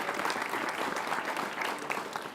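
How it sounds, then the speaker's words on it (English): An audience at a university groundbreaking ceremony claps steadily and loudly, a dense wash of applause holding throughout without pause. "Let's give them all a round of applause."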